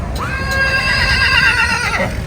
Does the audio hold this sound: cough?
no